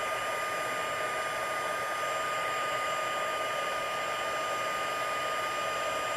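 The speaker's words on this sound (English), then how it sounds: "You can see it's turning dark as I move my heat tool around." A handheld heat tool blows hot air steadily to melt embossing powder on a Christmas card, a loud continuous whirring hiss with no pauses and no voices.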